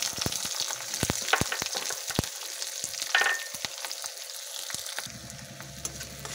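Onion and green chili frying in hot oil with cumin, dry red chili and a bay leaf, a steady close sizzle with scattered crackles and stirring scrapes, settling into a softer hiss near the end.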